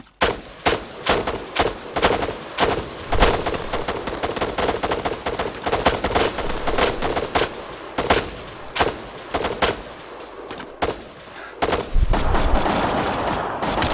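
Rapid bursts of video game gunfire from a military squad engagement crackle loud and close, with repeated rattling volleys and sharp single reports running throughout.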